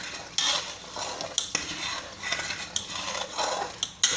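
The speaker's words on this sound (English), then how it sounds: "Now spread this like this and give a thorough mix." A big spoon stirring bisibelebath, a Karnataka rice and lentil dish, in a pot: continuous close scraping and mushy churning with several sharp metal clinks against the rim, no voices.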